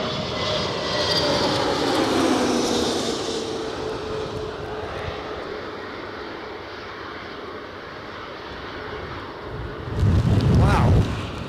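A Jet2 Airbus A321 airliner roars past at Newcastle Airport on a snowy, gusty, crosswindy day, its engine noise swelling loud and close, fading, then a sharp buffet of wind noise toward the end.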